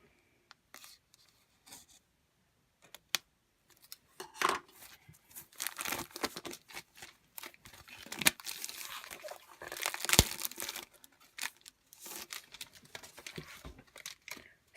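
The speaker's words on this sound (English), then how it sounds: "Now, I'm going to cut open our kit." Paper craft kit packaging being cut open with scissors and unwrapped, with soft crinkling, rubbing and crunching of paper and plastic in irregular bursts, close and moderately quiet, no talking.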